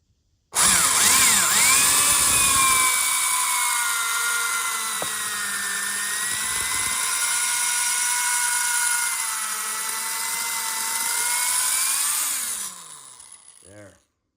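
A power tool cuts three-face valve seats in a 1972 Honda CB750 cylinder head, a loud steady high-pitched whine with wavering tones that winds down at the end.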